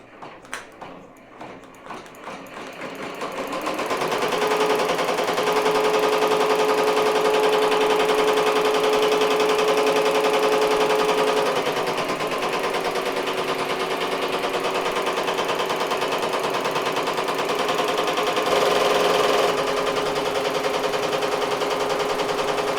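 An embroidery machine stitches a 3D puff design onto a beanie, giving a continuous close mechanical whirring and rapid needle clatter that holds steady for many seconds after starting up.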